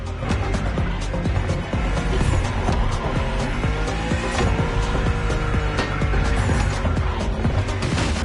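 A 1970s BMW 2002 Turbo-style car driven in The Crew Motorfest, a steady loud engine drone with gear-change shifts and occasional tire noise running throughout, alone with no talk.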